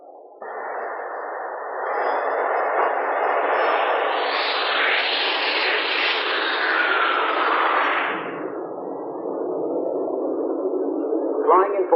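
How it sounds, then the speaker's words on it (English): A Jet Provost jet trainer from RAF training flies past, its steady roaring whine swelling loudly over several seconds and then fading, with a narrator speaking over it. "The new aircraft is the Jet Provost, much more powerful than the Chipmunk"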